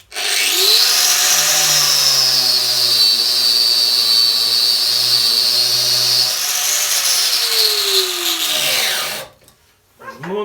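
A Metabo W18LBL9-125 cordless angle grinder at its sixth speed spins up to a loud, steady high-pitched whine, holds it for several seconds, then winds down, followed by a brief clatter.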